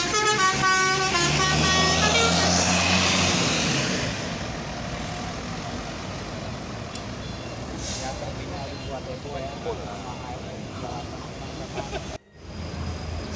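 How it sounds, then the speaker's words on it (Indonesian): A Yoanda Prima intercity bus sounds its telolet horn at a bus terminal, playing a loud multi-tone melody up close before fading into engine rumble and crowd noise. "Telolet lagi, telolet"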